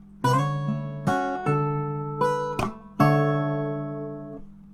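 Acoustic guitar playing bar 26 of a fingerstyle arrangement of a song from Naruto Shippuden, with a percussive slap on the sixth string: five plucked chords ringing out in a steady pattern, close and clear, no voices.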